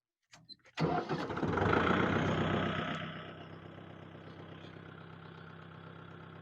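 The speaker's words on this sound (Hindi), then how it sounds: "अब हम गाड़ी को दोबारा स्टार्ट करते हैं।" A Kubota MU5502 tractor engine cranks and catches at close range, roaring up loudly before easing back to a steady idle rumble, with no talk over it.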